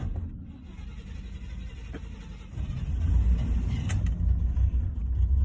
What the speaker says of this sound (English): Get everything we need for this truck so we can do a tune-up on it, because, just listen, running like garbage.